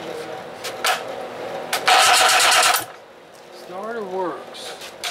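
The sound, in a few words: Johnson 20 Hp outboard electric starter cranking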